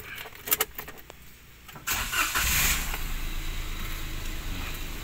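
A Daihatsu Ayla's engine is cranked and catches, with a few clicks and key rattles first, then a quick rev settling into a steady idle close by.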